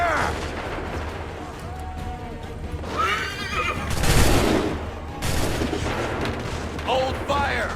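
A musket volley fires in Assassin's Creed 3, a loud crackling burst near the middle over battle noise, with horses neighing and people shouting around it.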